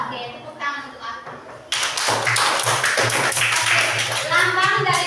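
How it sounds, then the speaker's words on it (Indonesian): Elementary classroom clapping for a student named Arka, a burst of children's hand claps starting abruptly after a moment of a teacher's voice, continuing with taps and thumps amid kids' chatter. "tepuk tangan untuk Arka"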